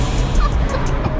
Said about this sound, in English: We are going through this traffic.